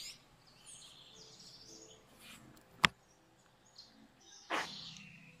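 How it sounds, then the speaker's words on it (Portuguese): A few scattered bird chirps and calls in Ubajara, Brazil, fairly faint and spaced apart, with a sharp click partway through and a brief louder burst near the end. "Aqui só você escuta os cantar dos pássaros."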